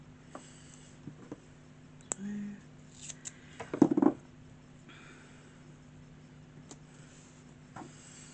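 Scissors snipping card for cardmaking, one short clear cut heard alone in a quiet room, with a few faint handling ticks around it.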